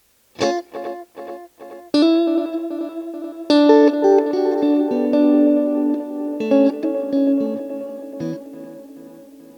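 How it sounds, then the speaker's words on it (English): An electric guitar plays short chords and notes through a Wampler Ethereal delay pedal with no reverb, each attack trailing off into repeating echoes. "Just delay this time."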